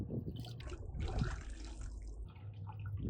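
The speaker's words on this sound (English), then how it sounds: "I'm going to use a Pyrex to see how many milliliters of water this can hold." Water is poured from a Pyrex measuring cup into a car floor liner, a steady close splashing trickle that runs for a few seconds without speech.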